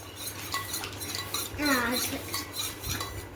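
A spoon stirs powdered drink mix into water in a glass, clinking and scraping in quick, irregular strokes close up, with a brief spoken voice and some household background.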